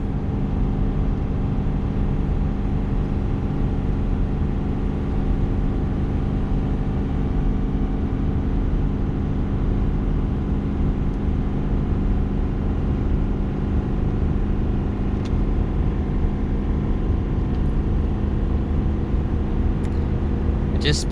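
A 2021 Ford F450 towing a heavy load downhill in sixth gear gives a steady, low engine drone with road rumble, heard from inside the cab at an even level throughout.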